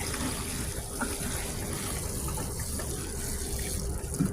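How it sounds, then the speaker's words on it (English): Water runs steadily onto freshly transplanted strawberry plants in a spring garden, a continuous soft splashing and trickling close by for several seconds without talk. "So I need to give them a good watering."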